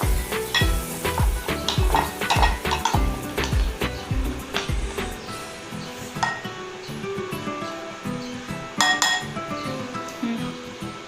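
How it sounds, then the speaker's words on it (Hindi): Homemade sauce for a chicken club sandwich is stirred in a bowl, a spoon clinking and scraping against the sides in quick, close, irregular taps, with a faint sizzle-like hiss underneath and no talking. "ये सॉस मैंने मिक्स कर दी।"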